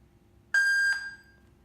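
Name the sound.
alarm system beeping once when connected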